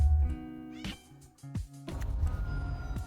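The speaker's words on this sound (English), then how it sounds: "one of the cats is stuck in the room" A cat stuck in a room meows repeatedly nearby, several drawn-out, wavering cries in quick succession, loud and clear with no talking.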